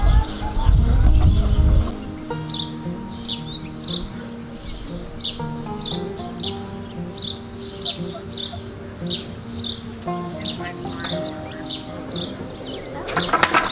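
Chickens near a backyard coop cluck and chirp in quick, repeated bursts throughout, moderately close, over a steady low hum with a loud rustling thump at the start.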